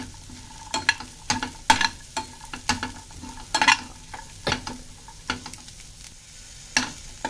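Peas frying in ghee with raw turmeric in a kadhai wok, heard as a soft background sizzle punctuated by a dozen or so sharp clattering spoon strokes against the metal, close up.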